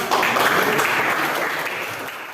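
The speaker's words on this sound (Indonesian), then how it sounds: "Tepuk tangan buat kalian semua." Applause from a group of participants, likely students, at the close of a training session on caring for the deceased, a steady dense patter of clapping that tapers slightly over a couple of seconds.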